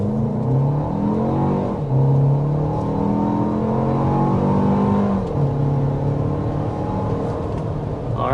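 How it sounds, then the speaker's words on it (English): A 2026 Toyota Grand Highlander accelerates hard to 60 mph, its engine note climbing steadily and dropping briefly at each gear change, loud and close inside the cabin with no talking. "there's our acceleration to 60 miles per hour with the Grand Highlander"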